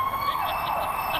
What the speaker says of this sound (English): Maybe you hear the sirens here.